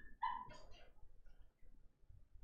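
Puppies shut in their kennel outdoors whimper and yelp in a short burst of high cries early on, followed by quieter faint whines over low background noise.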